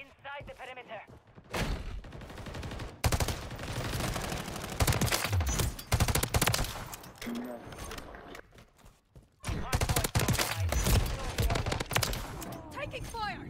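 Rapid bursts of gunfire from the video game Call of Duty: Modern Warfare III, a DM56 burst rifle in close combat, come in loud clusters with footsteps and game effects between them, while a player talks over the action.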